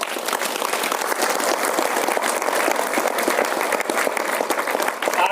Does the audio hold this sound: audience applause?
yes